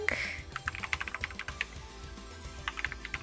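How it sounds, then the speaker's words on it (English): Rapid, irregular clicking of keys on a computer keyboard, close and fairly quiet, in short bursts with a brief pause in the middle. "can you hear me typing?"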